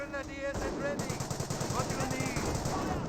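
Dense automatic machine-gun fire rattles continuously through a Company of Heroes 1 battle, loud and steady over other battlefield sounds.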